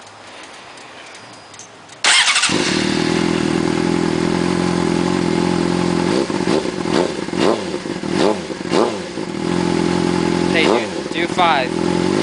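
A Honda-style 600RR sport motorcycle fitted with a GP slash-pipe exhaust fires up loudly at close range and is blipped through several sharp revs, with brief voices speaking over the idle.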